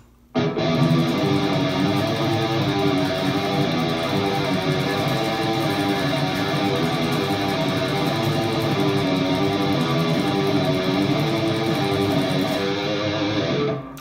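Palm-muted electric guitar chugs through a melodic death metal riff, a dense, steady, loud stream of heavily distorted notes that runs without a break for about fourteen seconds, then stops.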